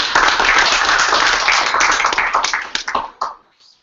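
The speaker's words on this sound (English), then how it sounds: "applause from Fort Worth" A crowd claps for a few seconds, dense at first and then thinning into scattered claps that die away.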